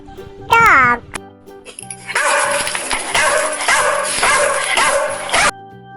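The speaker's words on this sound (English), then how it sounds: "Dog." A dog lets out a high yelping whimper, then a burst of rapid, loud barking close up, in a learning piece about farm animals for kids.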